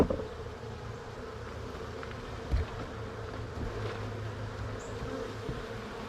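Honey bees drone steadily at a weak hive that is being fed syrup, a continuous low hum with one brief bump partway through and no talking.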